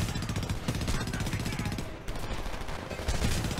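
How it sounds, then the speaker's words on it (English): Rapid automatic gunfire in the shooter game Homefront, a dense, continuous burst of loud shots with a brief dip midway before the firing picks up again. "More shooting!"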